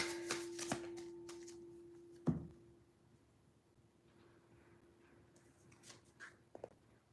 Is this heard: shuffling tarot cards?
yes